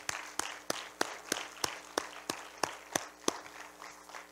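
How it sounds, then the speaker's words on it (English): Audience clapping for children after a morning performance, heard as a sparse, evenly spaced series of distinct loud claps, close and rhythmic, with little crowd noise behind them. "Let's give all these kids another big round of applause."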